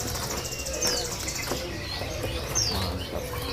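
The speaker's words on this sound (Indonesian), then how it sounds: "di kios ini ada juga burung cipo ya" Two brief, high chirps from a common iora ring out over steady, noisy background ambience at a bird market kiosk.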